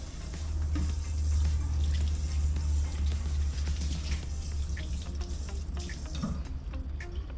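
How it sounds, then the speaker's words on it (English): Dishes are washed in a home kitchen sink under a running tap, a steady splashing stream of water with small clinks and knocks of wares, fairly quiet and without any talk. "I do like to wash wares when I'm cooking"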